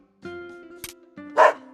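A dog from the video game Metal Slug Awakening gives a couple of short, spirited barks close up, with a brief whine between them.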